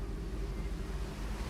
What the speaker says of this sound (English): Because there was like some water jet somewhere. I hear it.